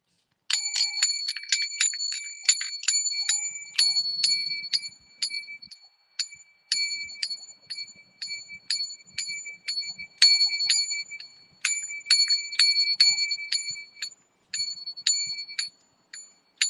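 A bright handbell rings in rapid repeated bursts, loud and close, with short pauses between clusters of strikes and no talking.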